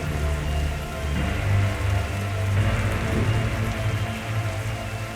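A steady, dense rainstorm in the video game The Darkside Detective washes over everything at an even loudness, with low droning tones sounding beneath it throughout.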